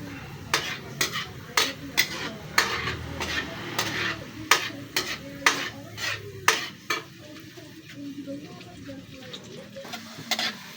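Garlic sautés in a pan for fried rice, a low sizzle beneath repeated sharp scraping and clinking strokes of a utensil against the pan at an uneven rhythm.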